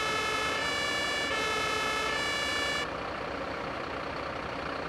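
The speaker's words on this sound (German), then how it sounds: "das ist das normale Martinshorn mit Pressluft" Compressed-air Martinshorn fire siren in the video game Notruf 112, alternating two-tone blasts cycling loudly for a few seconds before cutting off, leaving a low engine rumble.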